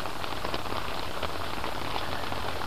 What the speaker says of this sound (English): It's rainy out.